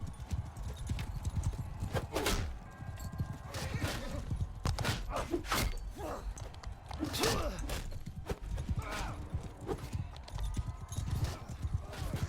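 Horses galloping in a Khuzait tournament in Mount and Blade Bannerlord, close rapid hoofbeats in an irregular clatter with occasional snorts, under faint crowd and combat noise.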